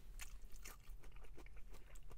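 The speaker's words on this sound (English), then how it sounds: "We got something really crunchy in there." Close, crunchy bites and chewing of a fast-food poutine topped with jalapeno coins and onion ring bits, several crisp crunches in quick succession with no talking.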